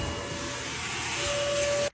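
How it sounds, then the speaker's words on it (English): A vacuum cleaner sucks up lint from the floor behind a clothes dryer, producing a steady, close, loud whooshing hum with a rising whine before it cuts off abruptly. "vacuum up all the lint that's on the floor down there"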